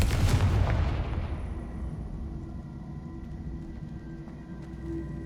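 The fiery Confringo blast spell from Hogwarts Legacy hits with a loud booming burst at the start, then a long rumbling decay that fades into low background noise.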